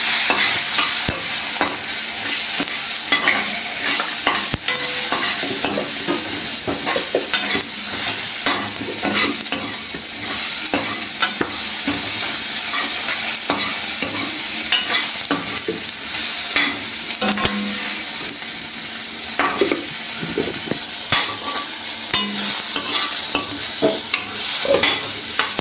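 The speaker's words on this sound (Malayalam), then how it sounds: "നല്ലോണം ഇളക്കി കൊടുക്കണം." A spoon stirs a chilli powder mixture in a sizzling frying pan, with continuous scraping and frying hiss close up for the whole stretch, no talking.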